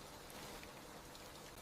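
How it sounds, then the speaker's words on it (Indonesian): Rain falls outside a window as a steady, soft hiss of dense drops, faint and unbroken throughout, with no voices. "Di luar jendela, hujan turun lagi."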